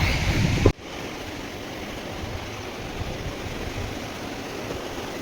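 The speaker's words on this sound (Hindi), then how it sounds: "सामने अभी हम पहुंचे हैं एक ऐसी जगह पर जहां पे एक झरना है" Shugda waterfall in a remote Himalayan valley, a broad continuous roar of falling water heard steadily after a brief burst of wind noise at the start.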